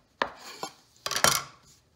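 A knife slices through fennel taralli dough on a work surface, making two short scraping cuts: a single stroke, then a longer double stroke. The cuts are close and clear, with no talking.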